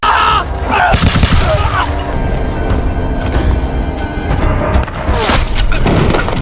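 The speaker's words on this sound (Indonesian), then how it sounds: "ia pun berhasil ditembak dari jauh" A loud gunshot from a long-range sniper in an action film cracks out near the start, followed by booming blasts and crashing battle noise, with voices mixed in.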